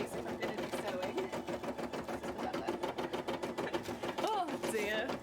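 A sewing machine stitching cosplay fabric runs in a fast, steady mechanical rattle, close and continuous, with a voice talking briefly over it.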